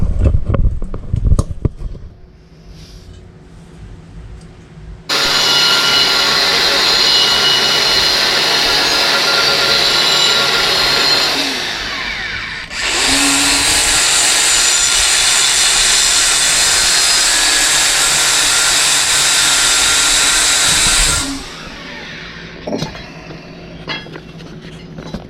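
Metal being ground down with a power grinder for an ATV winch mount on a Yamaha Big Bear, two loud sustained high-pitched runs of about eight seconds each, close up, separated by a brief dip.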